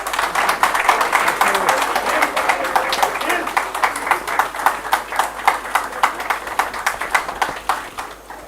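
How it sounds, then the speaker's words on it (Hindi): Loud clapping from a crowd at a political event where Udit Raj joins Congress, dense applause settling into slower rhythmic unison claps near the end. "तालियां बजाओ ना जोर से।"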